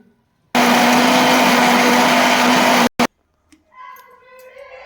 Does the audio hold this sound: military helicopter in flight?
no